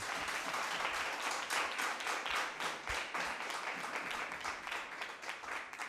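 An audience applauds steadily at a national school debate competition, a dense wash of many hands clapping that holds for several seconds and tapers slightly.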